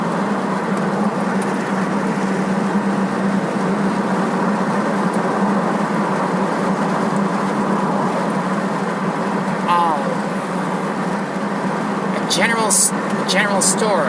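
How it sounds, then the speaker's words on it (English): Car driving along Kentucky roads near Owingsville, a steady engine and road hum running throughout, with people talking over it and a few brief sharp sounds near the end. "And now we're driving."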